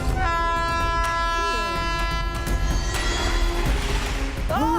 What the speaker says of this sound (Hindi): लेकिन उस ट्रैक पर पैसेंजर ट्रेन राइट टाइम पर आती है सर